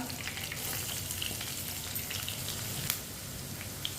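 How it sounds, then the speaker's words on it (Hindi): Finely chopped onion fries with whole cumin seeds in half a cup of oil over medium heat, giving a steady, dense, close sizzle with a couple of faint crackles. "प्याज को हल्का सा ब्राउन कर लेंगे।"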